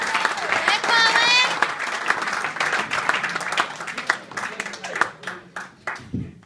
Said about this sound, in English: Please give a big round of applause for Colin O'Reilly.